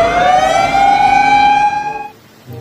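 A toy fire truck's high electronic siren wails loudly for about two seconds, its pitch sliding gradually downward before it cuts off abruptly.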